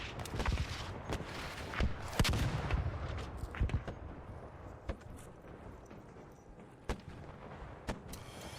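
Gunfire in the video game ARC Raiders: sharp, heavy shots crack out irregularly, clustered early and then spaced apart, over a rumbling battlefield din at steady loudness.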